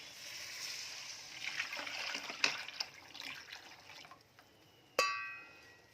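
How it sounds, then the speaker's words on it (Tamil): A mixture of tamarind, chili powder and salt is poured in a soft, continuous liquid splash for several seconds, then fades and ends with a single bright clink of a vessel. "நல்லா இந்த கரைச்சி வச்சுருக்கிறது புளி, மிளகாத்தூள், உப்பு போட்டு கலந்து வச்சுருக்கிறது ஊற்றுறேன்."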